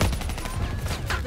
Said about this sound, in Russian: Пулеметчик сверху!